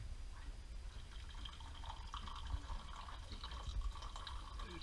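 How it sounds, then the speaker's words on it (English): Water pours at a slant onto a tilted stove aboard a sailboat run aground, a soft, faint trickle and splash with a low background rumble throughout. "when I pour water, it doesn't just go vertically down."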